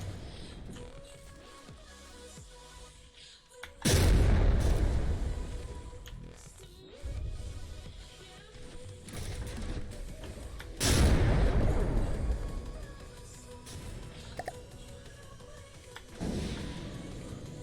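Missiles explode in the naval combat game From The Depths, three heavy booming blasts a few seconds apart, each swelling loud and decaying into a rumble over a continuous background drone.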